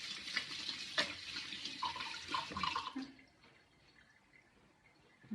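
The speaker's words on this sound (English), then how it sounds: "let me just give my hands a little rinse." Water from a kitchen tap splashes over hands being rinsed, a close hiss with small splattering bursts for about three seconds before it cuts off to near quiet.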